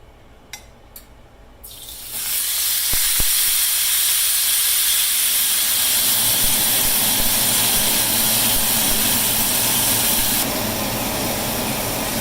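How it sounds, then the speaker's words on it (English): A London broil steak hits an oiled grill pan and sears with a loud, continuous sizzling hiss that starts after a couple of quiet seconds with light clicks, then holds steady throughout. "we'll go ahead and oil the other side while it's searing on this side"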